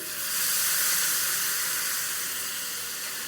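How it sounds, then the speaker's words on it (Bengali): Water poured into a hot pan of spiced potato and bitter gourd, a loud close sizzling hiss that swells quickly and then slowly eases off, with no talking. "দিয়ে দিচ্ছি একটু জল।"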